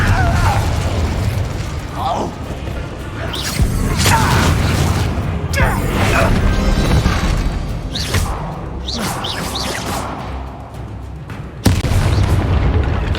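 Confringo explosive spell cast in the Hogwarts Legacy video game, a string of booming blasts and bursts over a low rumbling battle bed, with a loud sharp hit near the end and spoken voices mixed in.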